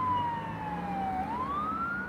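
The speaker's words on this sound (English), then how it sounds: "There's an ambulance coming." An ambulance siren wails on the road, its tone sliding down and then rising again in a long sweep, fairly close and loud over a steady traffic rumble.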